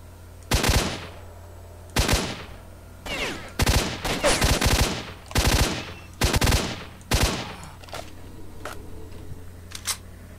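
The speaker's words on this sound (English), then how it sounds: "I swiftly spend it by shooting bandits 40 times" Bursts of gunfire aimed at bandits in the video game S.T.A.L.K.E.R.: Shadow of Chernobyl, sharp close shots arriving in separate clusters at irregular intervals, then thinning to a few scattered single rounds near the end.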